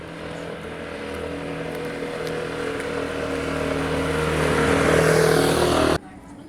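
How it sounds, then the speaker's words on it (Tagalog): A motorcycle climbing a hill on a dark road near Naksan Park, South Korea, its engine droning steadily and growing louder as it nears, then cutting off sharply. "May akyat na motor."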